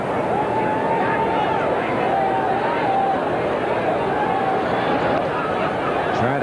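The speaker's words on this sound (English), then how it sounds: "Kansas City crowd." Kansas City crowd at a Yankees at Royals ALCS baseball game, a constant mass of chatter and murmur filling the stadium, with a thin whistle-like tone drifting over it.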